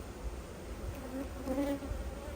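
Agitated honeybees buzz around an open hive, a close, continuous droning hum with wavering pitch as individual bees pass near.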